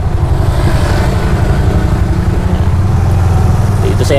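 Motorcycle being overtaken on the road, heard from aboard a Bajaj three-wheeler as a loud continuous engine drone with wind rumble close up, a voice speaking over it.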